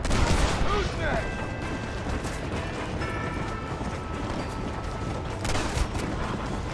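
Video game gunfire crackles in a busy, noisy mix of rapid shots and mechanical clatter, steady throughout at moderate loudness, with brief synthetic tones over it.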